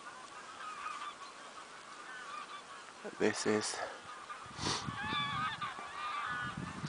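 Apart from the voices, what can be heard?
thousands of geese honking, with a crane calling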